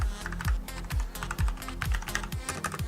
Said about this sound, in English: I'm just typing nothing, just so I can feel what it feels like